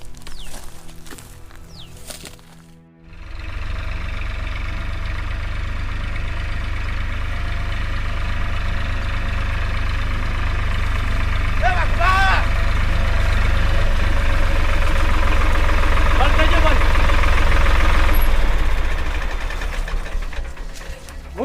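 A tractor engine idles steadily nearby with a low, constant rumble after a brief quiet start, while a few faint higher clanks and rattles come through midway.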